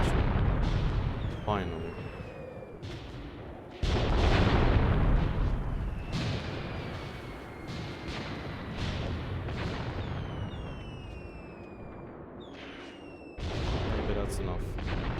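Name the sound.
mortar fire in video game Mius Front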